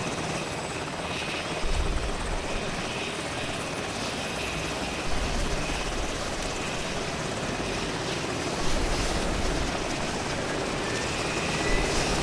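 A helicopter in the ArmA 2 combat game drones with a steady, dense rotor and engine roar that holds for the whole stretch, with slight swells in loudness and no talking.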